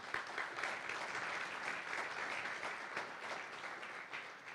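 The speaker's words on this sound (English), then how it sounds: "just give them a round of applause, please." A symposium audience breaks into steady, moderately faint applause, dense clapping continuing evenly throughout without speech.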